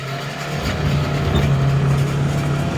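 A Polaris utility vehicle drives out to a hunting spot on a foggy, overcast day. Its engine gives a steady, close drone with a low hum that holds through the whole stretch, and no one talks over it.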